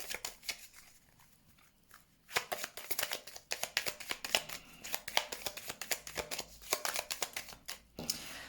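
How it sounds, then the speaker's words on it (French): Oracle cards are shuffled and drawn for a nine-card spread, heard as close, crisp riffling and flicking bursts that come in quick irregular clusters after a quieter start. "On va faire un tirage en 9 cartes"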